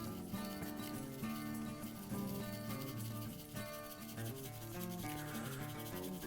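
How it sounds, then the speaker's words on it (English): Hands rub a dry spice rub over the outside of raw back ribs, a soft, continuous brushing and patting close by, with no talk. "let's get it all over the outside of these ribs"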